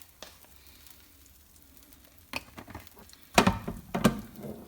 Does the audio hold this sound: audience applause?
no